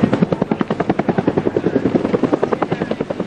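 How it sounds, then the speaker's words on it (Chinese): A military helicopter sets down on the ground during Taiwan's Han Kuang exercise, its rotor giving a loud, steady rapid chopping thump that continues without pause, up close. "直升机降落地面"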